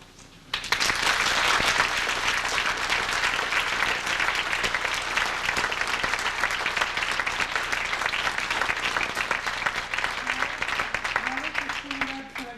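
Audience of around 125 people at a derby gala breaking into applause, a sudden onset of thick, continuous clapping that holds steady for over ten seconds, with a few voices near the end.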